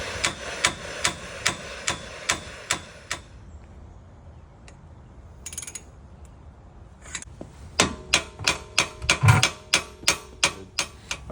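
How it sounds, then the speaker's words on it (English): A hammer strikes a stuck, heated axle on the hub of a 2006 Ford Ranger 4x4 in loud, sharp, evenly spaced metallic blows. There is a quiet pause mid-way, then a faster burst of hits. "The hope is with patience, the pressure pushing in with the heat and the hammer will eventually break this axle"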